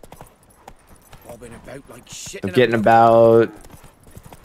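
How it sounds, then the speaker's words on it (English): Horse hooves clop at a steady trot while riding a horse in a video game, the rhythmic beats sounding under someone talking, followed by a loud harmonic burst near the end. "Do a quick test riding our horse."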